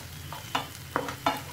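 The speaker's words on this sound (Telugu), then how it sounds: "ఈ విధంగా ఫ్రై చేసుకోవాలి ఉల్లిపాయ ముక్కలనైనా సరే, అల్లం వెల్లుల్లి పేస్ట్నైనా సరే." Onions and ginger-garlic paste frying in a pan, a faint sizzle with three quick stirring scrapes of a spoon, alone and close.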